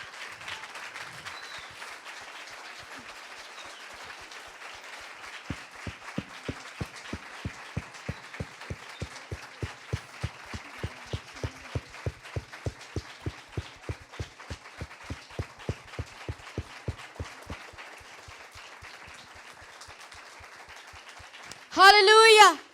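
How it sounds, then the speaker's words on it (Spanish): Slow rhythmic clapping from a church congregation, many even beats in a row, ending in a short burst of loud cheering and applause. "Dele un fuerte aplauso al Señor."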